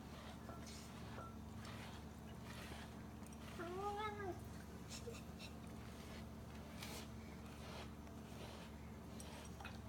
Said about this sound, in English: so he's making this noise when he's eating